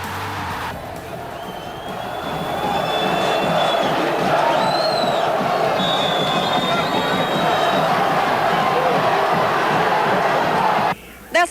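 A football crowd erupts after an equalizing goal in a Copa Sul-Fronteira match at a stadium, a loud sustained roar with cheering that swells and holds steady for about ten seconds before cutting off.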